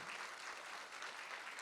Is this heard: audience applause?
yes